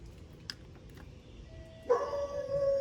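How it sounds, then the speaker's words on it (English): At a house, a dog gives a faint yip early on, then breaks into a louder, drawn-out tonal bark or whine that carries on to the end, heard from a short distance with no speech. "so the dog is certainly going to let them know we're here"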